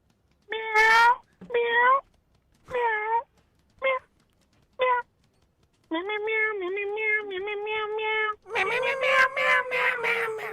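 A man at a live morning radio studio imitates a cat with a series of exaggerated meows, several short calls followed by longer drawn-out yowls, close and loud, ending in a rough caterwaul.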